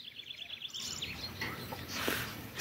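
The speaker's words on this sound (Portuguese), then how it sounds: "Passarinho tudo alegre." Small birds chirp outdoors in the countryside under changing, cloudy weather: quick, high, repeated tweets near the start, then fainter scattered calls over a soft outdoor background.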